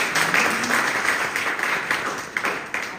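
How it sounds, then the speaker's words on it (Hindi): An indoor audience at a business plan presentation claps steadily for a few seconds, a dense, moderately loud wash of applause with no voices over it. "एक बार जोरदार तालियां चाहेंगे"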